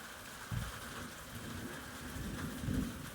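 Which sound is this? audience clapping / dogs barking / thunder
thunder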